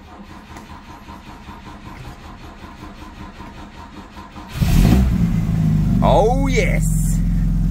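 A Volvo B20 engine left unstarted all winter cranks, catches and roars to life, then revs hard and settles into a loud idle, with a brief excited voice over it.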